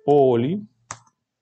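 A single sharp computer mouse click sounds close and clear just after a brief voiced murmur, then silence.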